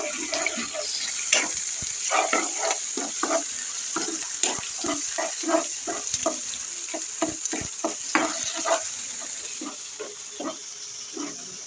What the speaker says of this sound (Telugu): ఆనియన్ పచ్చిమిర్చి అలాగే అల్లం వెల్లుల్లి పేస్ట్ కూడా మగ్గేస్తున్నాయి కదా ఫ్రెండ్స్